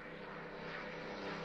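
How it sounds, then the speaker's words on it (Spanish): Propeller aircraft of World War II style flying low overhead, a steady, dense engine drone that swells slightly louder toward the end, with no voices. "Aviones de la Segunda Guerra Mundial parecen."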